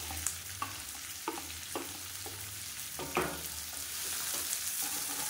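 Chopped onions and green chillies sizzle steadily in a hot pan, with a spatula scraping and stirring in several distinct strokes over the continuous frying hiss.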